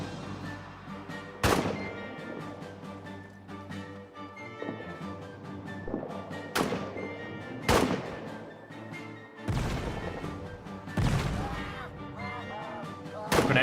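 Several heavy grenade explosions burst out loudly at irregular intervals in the WWI trench game All Quiet in the Trenches, each a sharp boom with a rumbling tail over a constant battlefield din.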